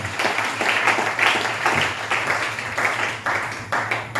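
A church congregation applauding during a worship service: steady, dense clapping from many hands, loud and sustained throughout with slight surges in intensity, filling the room.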